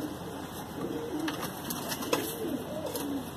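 Faint, soft coos from a domestic pure-breed pigeon repeat a few times against a quiet background hum, with one brief sharp click partway through.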